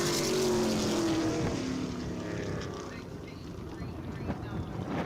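A SMART Modified race car roars past on the track at Caraway Speedway, the engine note loud and close at first, then fading and dropping in pitch as it moves away, with faint commentary beneath.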